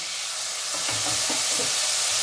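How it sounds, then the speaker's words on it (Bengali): Ground spice paste of cumin powder with a splash of water, sizzling and frying steadily in a pan, a continuous loud hiss with soft stirring scrapes. "সামান্য একটু জল দিয়ে দেব, যাতে মশলাটা ভালো করে কষানো হয়"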